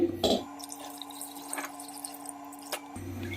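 Water trickles and drips into a metal pressure cooker, with a faint ringing tone and a few light clinks, close by and without speech.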